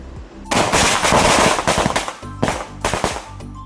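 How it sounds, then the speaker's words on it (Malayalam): Loud firecrackers burst at an inauguration in Kerala in a rapid crackling string, then a few scattered pops follow after a short pause. "അതിന് ശേഷം നല്ല അടിപൊളി ഒരു പടക്കം പൊട്ടിക്കലൊക്കെ ഉണ്ടായിനി കേട്ടോ"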